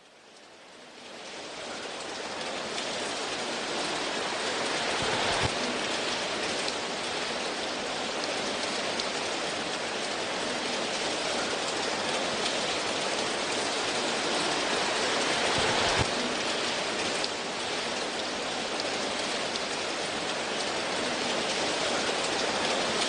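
Steady rain falls on city streets, a dense continuous hiss of drops on pavement that stays loud and even throughout, with no voices.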